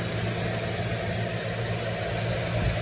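A car's Slant 6 engine idling steadily up close, a constant low rumble and vibration with no talking.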